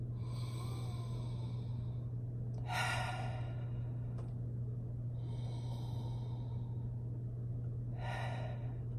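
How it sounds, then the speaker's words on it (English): Slow, deep breaths are drawn in and let out through cupped hands that hold essential oil. Two long, airy inhale-and-exhale cycles sound close and soft over a steady low hum, with no talking. "You're going to take about 3 or 4 deep breaths."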